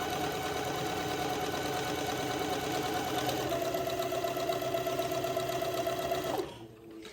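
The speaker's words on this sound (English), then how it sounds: "using a straight stitch, I will sew the ribbon casing just close to" A sewing machine runs a straight stitch along a ribbon casing on fabric, a fast, steady mechanical whir with a rhythmic clatter that stops suddenly near the end.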